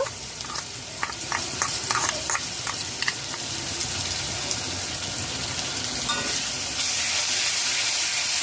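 Pointed gourd and prawns fry with red chili sauce in a pan, a steady close sizzle under a run of quick, rhythmic spatula taps and stirring scrapes.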